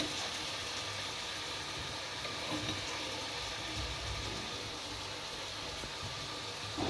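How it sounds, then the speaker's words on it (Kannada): Chicken vada fry in oil on a tawa, making a continuous, fairly loud hissing sizzle that holds steady from start to finish with no talk over it. "ಒಲೆ ಹಚ್ಚೋದು, ತವ ಇಡೋದು, ಎಣ್ಣೆ ಹಾಕ್ಕೊಂಡು ಫ್ರೈ ಮಾಡ್ತಾಯಿದ್ದೀವಿ"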